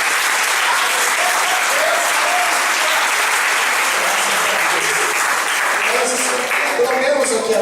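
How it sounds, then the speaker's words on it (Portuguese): A church congregation at a Portuguese-language service applauds, producing a sustained, loud, even wash of clapping from many hands that carries on without pause from start to finish. "Você pode aplaudir o Senhor por isso?"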